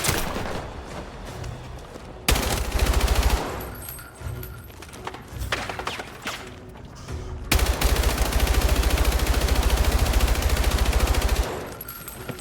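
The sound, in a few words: gunfire from weapons in video game Battlefield 6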